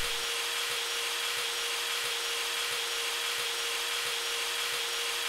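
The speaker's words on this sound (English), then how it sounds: "You gotta get the drill on the screw." Power drill whirring steadily against a screw while defusing a bomb in a video game, a constant grinding hum with a faint pulsing rhythm, close and alone with no talking.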